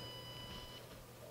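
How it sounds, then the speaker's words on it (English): A Thecus N2310 NAS gives a faint, steady electronic beep as it is switched off, a thin high tone held evenly through the moment against a quiet room. "So I'm pressing it, it's going to beep"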